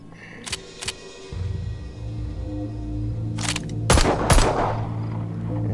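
Gunshots from a weapon in the VR video game Arizona Sunshine 2: a couple of sharp early reports, then louder bursts of fire near the end over a steady low game rumble.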